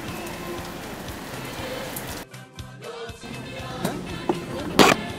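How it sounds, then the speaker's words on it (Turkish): Heavy rain falls outdoors in Arusha or Moshi, Tanzania, a continuous hiss of drops that thins briefly partway through, followed by a few sharp close knocks and splashes. "Yağmur bayağı hızlandı bu arada."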